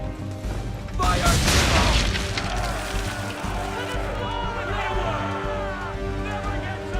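Cannon-like booms and a volley of explosions from swivel guns and powder barrels in the naval battle game Assassin's Creed 3, loud and close, with a rumbling burst up front that settles into sustained crackling and roar.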